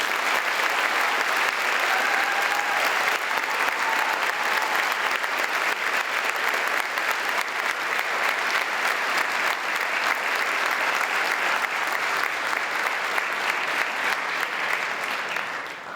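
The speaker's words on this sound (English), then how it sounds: "let's have a big round of applause for our veterans." Sustained, loud applause from a large school assembly crowd honoring veterans at a Veterans Day event, a dense, even roar of clapping lasting the full stretch and tapering slightly at the end.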